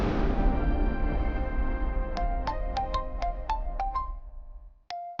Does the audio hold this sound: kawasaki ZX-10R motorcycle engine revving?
no